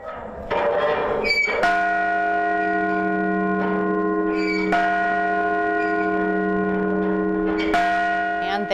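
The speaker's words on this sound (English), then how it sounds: "there they are, ringing that bell today at the campus of MSU Billings" A large bell rings out at a campus celebration at MSU Billings, struck three times at even intervals, each deep, sustained toll overlapping the last as it rings on loudly.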